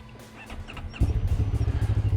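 A beginner motorcycle fires up after about a second and settles into a loud, close, pulsing idle with regular throbbing beats, and no one speaks.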